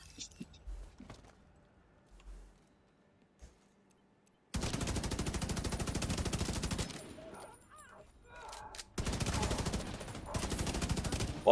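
Sniper rifle fire in the Division 2 video game: two long stretches of dense, loud, rapid shots with a short quiet gap between them, preceded by several seconds of near silence broken by a few faint knocks.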